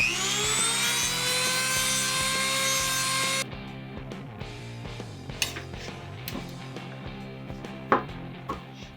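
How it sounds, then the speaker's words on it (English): A Dremel rotary tool whines at a high, steady pitch for a few seconds while smoothing a piece of a prop warhammer, then stops, followed by faint scattered taps and handling noises. "I think I'll go ahead and grab the Dremel and do that real quick"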